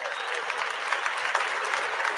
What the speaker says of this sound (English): Another big hand clap goes there.